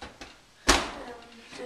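A kitchen oven door shuts with a single firm thud-clack, close and fairly loud, preceded by faint handling knocks and followed by a quiet room tail.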